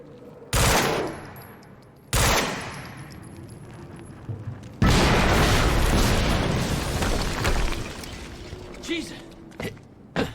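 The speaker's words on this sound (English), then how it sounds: "we just heard an explosion near the harvesting perimeter" Explosions and gunfire in the video game Quantum Break at an industrial harvesting perimeter: sharp loud blasts at intervals, then a sustained roaring burst of fire and debris, with a voice talking intermittently.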